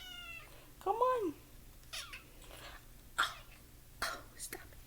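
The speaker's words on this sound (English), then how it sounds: "You don't walk away and start meowing." A pet cat lets out a couple of close, rising-and-falling meows near the start, followed by soft whispery talking and small breathy noises from a person nearby.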